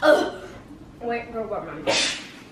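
A single sharp sneeze bursts out near the end, close and loud, following a few spoken words from people nearby.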